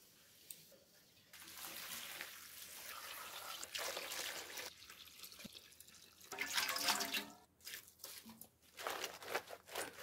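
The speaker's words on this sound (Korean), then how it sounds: "손으로 저어가면서 녹여주고요." Sea salt being stirred by hand into about six liters of water to make brine for salting napa cabbage kimchi: soft, close sloshing and swirling water with drips, rising and falling in uneven surges.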